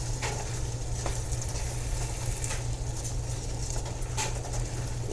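Vegetarian taco meat sizzles steadily in a pot while being stirred, a constant frying crackle with a low hum beneath it and occasional sharp scrapes of the spoon.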